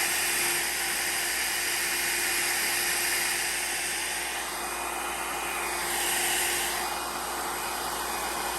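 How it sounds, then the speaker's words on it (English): A steady, airy whoosh of a heat dryer blowing close by over alcohol ink art, with a constant whine and slight swells in airflow. "I don't normally tip my dryer like this"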